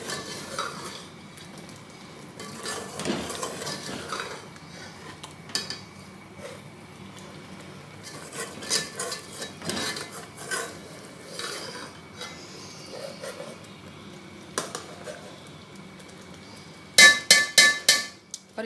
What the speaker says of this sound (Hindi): मिक्स करने के बाद इसको थोड़ी देर भूनती हूँ।